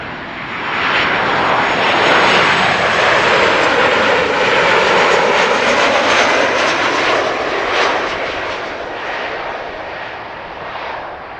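A fixed-wing airliner arriving on runway 06 at Amsterdam Schiphol roars loudly and steadily overhead, swelling and then slowly easing off as it passes.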